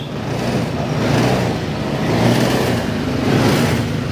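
A Yamaha NMAX 155 scooter that was driven through floodwater, its engine revved steadily in short throttle blips, with the drone rising and falling at close range and no talk over it.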